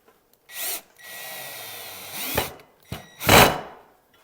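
Power drill whirs in a few separate bursts, one long sustained run driving a screw into wood, with short sharp spins before and after.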